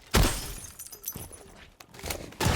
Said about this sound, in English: Go ahead and break the glass.